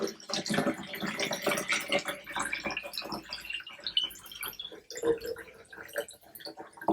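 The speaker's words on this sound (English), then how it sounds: "This is distilled water. You just go ahead and fill it up." Distilled water is poured into an H2 hydrogen water bottle, a soft, steady trickle and splash that runs continuously and fairly faintly, with no talk over it.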